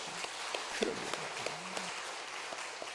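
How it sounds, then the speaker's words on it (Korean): A church congregation claps together in worship, a faint, steady wash of applause at a distance with a few sharper claps standing out. "우리 하나님께 영광의 박수 한번 돌려보세요"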